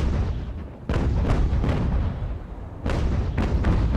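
Broadside cannon fire from sailing warships in the naval battle game Ultimate Admiral: Age of Sail, a rolling series of heavy booms in quick succession, loud and close, with rumbling between salvos.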